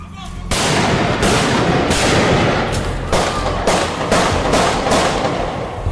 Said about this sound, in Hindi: चली तो बस गोलियां।